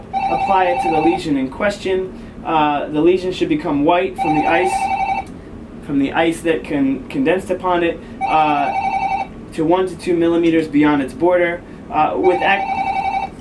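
A telephone rings repeatedly in a medical clinic during a cryotherapy demonstration, its bright electronic trill cutting in and out under steady instructional speech.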